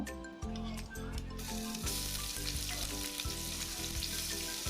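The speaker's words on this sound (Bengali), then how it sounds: "আমি এখানে 4-5টা এলাচ, দারচিনি দিয়ে দিলাম" Four or five cardamom pods and cinnamon frying in oil for khichuri, a loud dense sizzle that swells after a moment and holds steady, with a faint repeating hum beneath and no voices.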